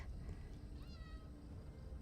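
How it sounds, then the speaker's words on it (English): A cat meows once in a fantasy game setting, a short rising-falling cry near the middle over a quiet background hum. "Is that a cat? Oh, someone's pet."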